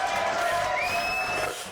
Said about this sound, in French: Applaudissements pour Mathias Vincenot